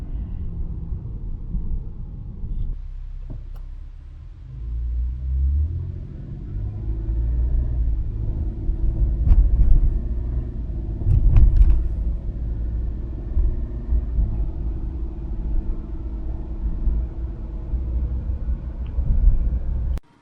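A Mitsubishi Diamante 25V on a test drive gives a low, steady engine and road rumble from inside the cabin, swelling as it gets under way and holding at a moderate level with a few faint knocks.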